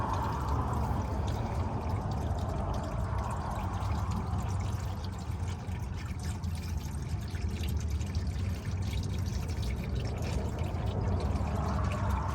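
Engine oil drains from a 2018 Chevy Silverado 1500 into a pan during an oil change, a soft continuous pouring trickle that stays steady and fairly faint throughout.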